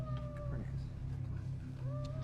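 A cat meows in a movie scene: two drawn-out, tonal meows, one at the start and another near the end, heard over a steady low background hum.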